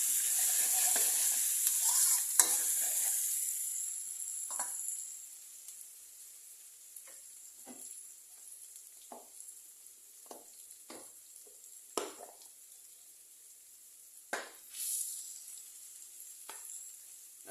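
Chilies sizzle and get stirred in a hot pan for eggplant with minced pork, a loud hiss at first that settles into softer frying, broken by repeated scrapes and clicks of the spatula.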